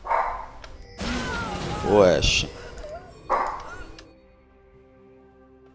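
A dog barks and yips in short bursts close by in a room, heard between a man's speech during a League of Legends match.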